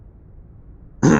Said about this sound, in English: I didn't want to clear my throat in the middle of a conversation